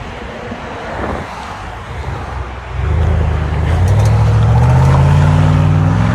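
A 2020 Chevy Silverado 5.3L V8 pickup with a Flowmaster Super 10 exhaust, resonators removed and quad tips, 9-inch lift and 26-inch wheels; a loud low exhaust rumble that rises sharply partway through as the engine revs up, with wind noise outdoors.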